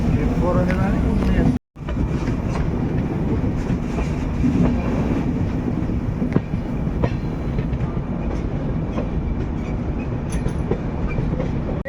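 The 12864 Howrah Superfast Express rolls steadily along the rails from Bangalore to Howrah, continuous rumble and faint clickety-clack, loud and close, briefly cutting out for a moment early on.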